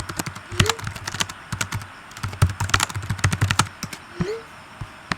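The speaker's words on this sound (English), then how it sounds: "you start typing in front of their face with some imaginary keyboard, as I just did right now with the keyboard in front of me" Rapid bursts of clicking keystrokes on a computer keyboard close by, irregular clusters of taps with brief pauses between runs.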